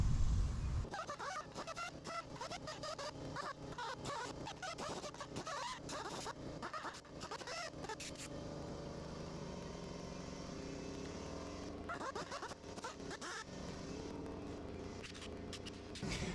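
A wire wheel scrubs the crusty thermostat housing of an FJ62 Land Cruiser, making a continuous, fairly quiet whirring grind with a brief easing near the end.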